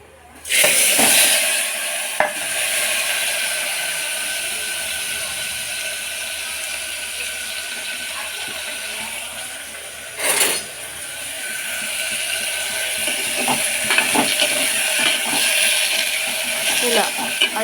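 Drumstick pieces with turmeric sizzling and frying in a pan, a steady bright hiss throughout with occasional clinks and scrapes of stirring, close up.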